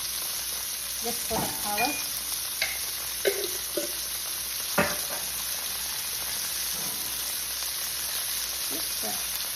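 Dark soy sauce goes into a hot pan for glazed chicken breast, giving a steady background sizzle with a few sharp clicks and stirring knocks, while a voice speaks briefly over it.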